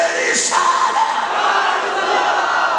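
A large crowd at a religious gathering roars a sustained shouted slogan response in unison, a dense wall of voices holding steady and loud throughout with no pauses.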